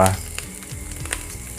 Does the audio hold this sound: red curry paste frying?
yes